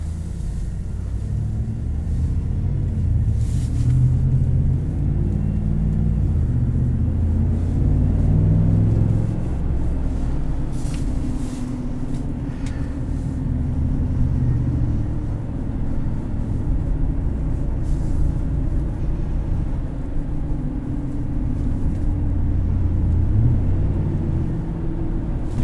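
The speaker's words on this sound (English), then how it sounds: "this does have a Borla catback on it, but it's not absurdly loud at all" A 2021 Chevrolet Silverado 1500 LT Trailboss with a Borla catback exhaust drives steadily in sport mode, giving a continuous low engine rumble and road noise heard from inside the cab, with no one talking.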